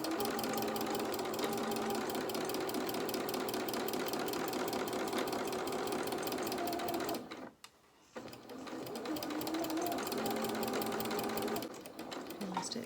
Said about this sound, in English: we're just going to reverse start a couple of stitches, reverse, taking our pins out so we don't sew over our pins.